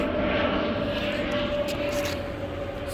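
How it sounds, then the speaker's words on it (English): A propeller plane drones steadily overhead, a continuous humming engine roar that fades slightly toward the end. "Sorry for that plane, a little noisy"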